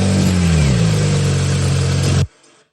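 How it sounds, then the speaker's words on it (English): A video game car engine runs at a loud, steady idle after starting, its low hum sinking slightly in pitch before cutting off abruptly near the end, leaving faint background noise. "Here's the car engine. Sounds like that."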